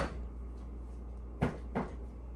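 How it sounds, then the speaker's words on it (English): A round cake pan is tapped on a table to loosen the cake: two short, dull knocks close together over a low steady hum, no talk. "I like to tap the side on the table just to help release it from the pan."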